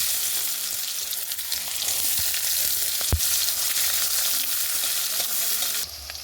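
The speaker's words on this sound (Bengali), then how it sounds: "এবার আমি পেঁয়াজটা দিয়ে দিলাম" Onion frying in oil with bay leaf and whole garam masala for a mutton and chickpea curry, a steady close sizzle with occasional stirring knocks, one sharp clang, and faint voices in the background.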